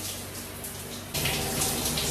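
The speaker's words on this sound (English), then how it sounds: "So, it's been 15 minutes in the shower." Shower water runs steadily as a continuous hiss and splash, then gets noticeably louder and fuller halfway through as the spray hits closer.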